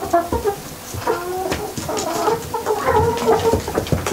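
Several chickens cluck and chatter nearby in short, overlapping bursts, with no talking.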